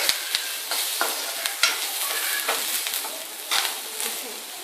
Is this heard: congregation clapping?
no